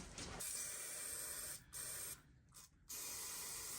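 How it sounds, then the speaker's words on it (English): A steady aerosol hiss of brake cleaner spraying in several bursts onto a Citroen C3 Picasso gearbox to remove residual oil, with short pauses between them, close and loud. "We now give it a spray with some, oh, let's get my brake cleaner."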